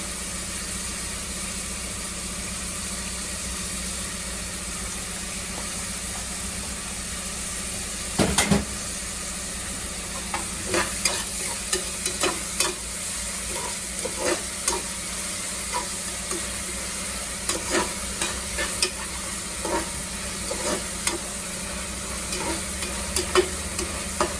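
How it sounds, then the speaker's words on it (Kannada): Sliced onions fry in oil with a pinch of salt over a medium flame for chicken biryani, a steady close sizzle broken by repeated scraping clinks of a spoon stirring through the pan. "ನೋಡಿ, ಉಪ್ಪು ಹಾಕಿದ ನಂತರ ಈರುಳ್ಳಿ ಬೇಗ ಬೇಯ್ತಿದೆ."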